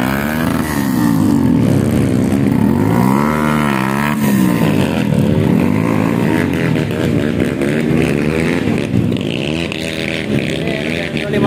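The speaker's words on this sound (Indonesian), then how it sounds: "Gigi satu tidak pakai kopling." Motorcycle grinding up a steep, extreme off-road trail in first gear without using the clutch, its engine droning loudly and steadily with wavering pitch throughout, close up.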